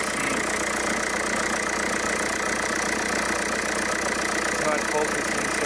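Volkswagen Eurovan engine idling with a rattling belt tensioner and alternator one-way clutch, a constant close mechanical chatter over the running engine with no pauses.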